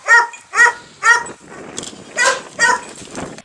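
A hunting dog barks six times in a loud, close series of sharp barks with short gaps between them and no voices over it.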